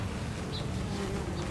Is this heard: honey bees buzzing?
yes